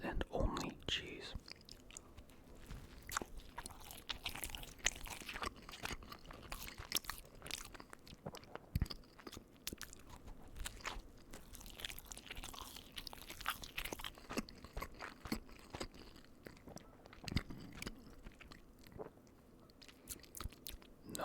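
Close, quiet chewing of a McDonald's Quarter Pounder with cheese, with soft wet bites and crunches repeating irregularly and faint whispering between mouthfuls.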